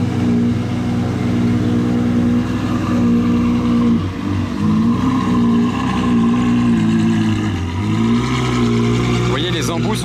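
Ferrari 812 Competizione V12 exhaust droning loud and steady as the car rolls past, with pitch dips and swells from throttle changes and a brief rise near the end.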